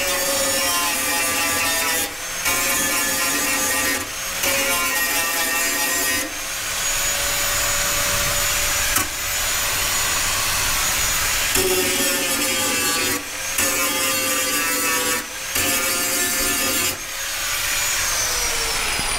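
An angle grinder with a stone grinding disc works on Corolla car bodywork, a loud sustained abrasive whine broken by brief pauses every couple of seconds, close and continuous.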